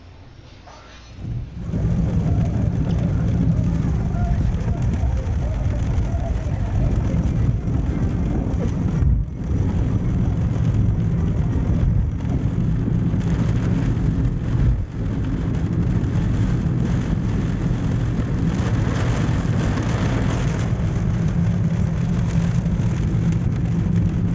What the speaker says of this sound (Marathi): आज खूप प्रचंड असं वादळी वारं आणि पाऊस होता